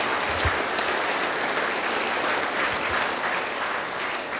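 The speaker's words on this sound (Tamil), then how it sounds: "அவருக்கு மீண்டும் ஒரு பெரிய கைத்தட்டில் கொடுங்க" An audience in a hall at a training class closing ceremony in Chengalpattu gives sustained, steady applause throughout, loud and dense with no pauses.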